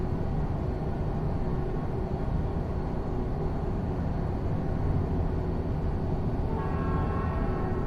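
A loud, continuous rumble of a train rolling past a truck in the video game American Truck Simulator, a steady heavy roar with a faint higher tone joining near the end.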